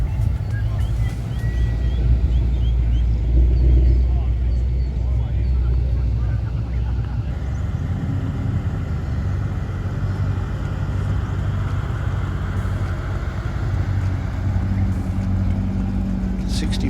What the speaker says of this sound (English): Late model Mustang.